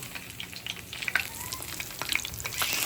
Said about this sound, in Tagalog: Yan yung pangalawang prito natin